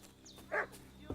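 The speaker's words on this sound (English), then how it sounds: "What's that dog making such a fuss about?" A dog barking in a medieval 1400s-set video game, a single short bark in the middle over quiet game ambience, with a brief squeaky yip early on.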